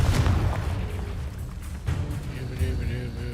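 A Confringo fire spell cast in Hogwarts Legacy goes off as a few deep, booming blasts, one loud burst at the start and lighter thumps later, over a continuous rumbling game soundscape.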